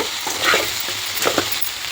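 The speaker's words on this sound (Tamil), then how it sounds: "இந்த எண்ணெயிலேயே நல்லா வதங்கட்டுங்க." Sliced okra frying in oil with rock salt in a pan, a steady loud sizzle broken by scraping, clattering stirs of a spoon close by.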